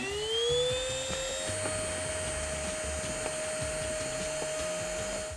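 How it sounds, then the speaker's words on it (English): A hand vacuum runs behind a fridge, giving a steady high motor whine with a sustained tone and airflow hiss that holds at a constant level throughout, loud and close. "A hand vacuum comes in handy"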